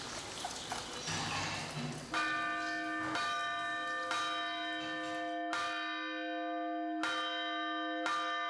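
A monastery church bell in Bulgaria tolls for evening service, with several loud, resonant strikes spaced a second or two apart, each ringing out and fading slowly.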